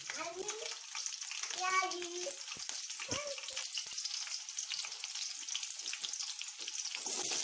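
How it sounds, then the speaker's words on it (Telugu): Cumin and mustard seeds sizzle in hot oil with a steady, dense crackle and spatter throughout, while a voice and other speech come in briefly over the frying near the start. "ఆయిల్ వేడెక్కాక అందులోకి జీలకర్ర ఆవాలు వేసేయాలి."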